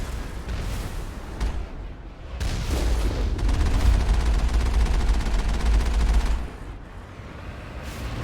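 Sustained enemy gunfire in the video game Mass Effect, a loud, dense barrage of shots and booms that swells midway and carries on for several seconds with no talk over it.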